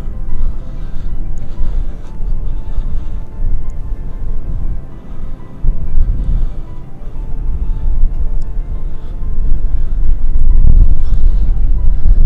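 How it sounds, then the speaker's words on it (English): Loud, continuous wind buffeting rumbles against a microphone on the breezy upper-deck helipad of the Royal Caribbean cruise ship Jewel of the Seas, gusting stronger toward the end. "Sorry for the wind noise, a little breezy up here."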